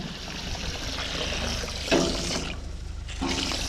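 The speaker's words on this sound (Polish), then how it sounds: "Dobrze, dobrze, leci woda." Water runs steadily on a farm, a continuous close rushing and splashing flow with a brief louder surge partway through, with no speech over it.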